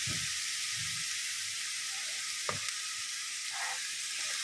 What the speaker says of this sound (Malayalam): അതിലേക്ക് കുറച്ച് പച്ചമുളകും കൂടെ അരിഞ്ഞിട്ട് കൊടുക്കാം എല്ലാം കൂടെ ഒന്ന് നല്ലതുപോലെ ഫ്രൈ ആയി വരണം